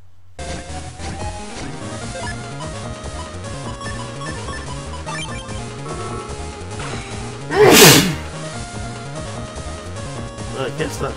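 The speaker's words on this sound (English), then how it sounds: "Well, I can't stop sneezing today." One loud, sharp sneeze bursts out near the close of the clip over steady Megaman Battle Network 5 game music and sound effects, standing clearly above the background.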